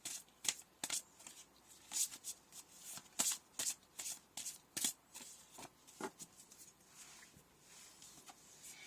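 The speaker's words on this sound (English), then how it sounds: "we're just going to pull some oracle cards to finish." Oracle cards are shuffled by hand close up, producing a quick series of crisp, papery riffles and slaps in an irregular rhythm, quiet and alone with no talk.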